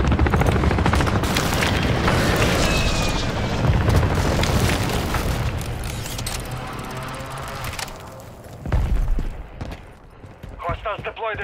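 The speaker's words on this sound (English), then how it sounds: "Hostile airstrike near your location." Airstrike explosions in the video game Call of Duty rumble as heavy, continuous booms with deep low-end roar, fading and flaring again while game radio voices speak over them.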